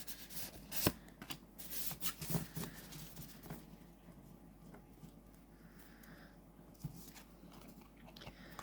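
Tarot cards being picked and handled from a Neoteric Feminine Tarot deck, with close, soft card shuffling and papery clicks, a sharper snap near the start and quieter rustling after.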